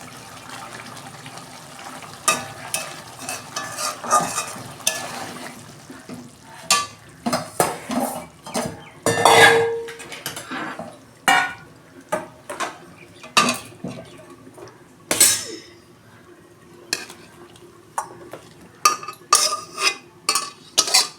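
Cooked bhola fish and brinjal curry scraped and poured out of a metal pan, with repeated sharp utensil clacks and scrapes against the pan, close and fairly loud, some soft sizzling between the strokes.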